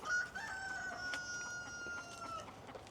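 A farmyard chicken crows in a long drawn-out call while other fowl cluck in short bursts, moderately close over a soft outdoor background.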